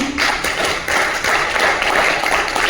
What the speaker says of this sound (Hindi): अगर ताली मार रहे हैं तो जोर से मारिए।